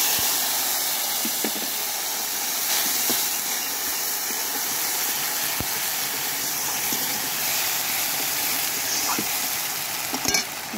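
Bowl-rinsing water poured into spices frying in a pan sets off a steady, loud hiss and sizzle, with occasional sharp clicks and pops over about ten seconds.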